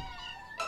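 A cartoon kitten gives a single brief, tonal meow with a bright rising harmonic at the end, clear and close in a studio-clean soundtrack.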